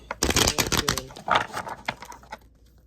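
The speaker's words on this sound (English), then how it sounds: "Give one more shuffle." A quick burst of rapid riffling clicks, like cards being shuffled close by, tapering off into quiet.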